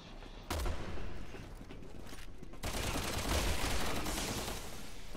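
Rapid bursts of gunfire in the zombie shooter Resident Evil 6, dense overlapping shots and loud impacts filling the whole stretch with a sustained, chaotic roar.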